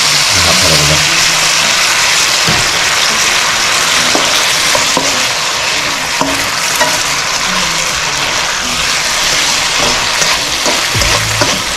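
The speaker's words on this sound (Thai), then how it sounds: "ผัดคลุกเคล้าให้เข้านะครับ" Brussels sprouts stir-fried with oyster sauce in a pan give a constant loud sizzle and hiss, with occasional soft scrapes and clinks of the utensil tossing the vegetables.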